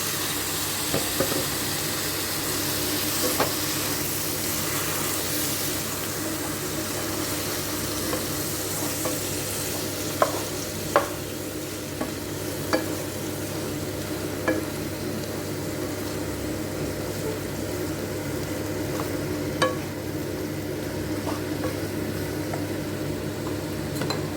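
Chicken marinated in curd and turmeric stir-frying in a pan for a plantain curry, a constant close sizzle with scattered small clicks and taps of stirring throughout.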